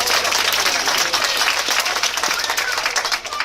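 An aquarium audience claps for the belugas in a dense, loud round of applause that holds steady for a few seconds before easing slightly at the end.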